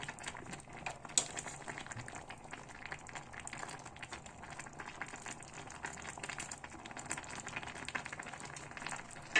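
Plov, a rice pilaf with garlic, simmering in a pot at home: a faint, steady bubbling and patter that carries on throughout with no talking.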